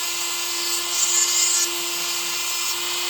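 A Dremel rotary tool spinning at about 20,000 RPM grinds a chainsaw chain, giving a loud, steady high-pitched whine throughout, with a brief rise in grinding where the stone bites harder on the cutter, and no talking.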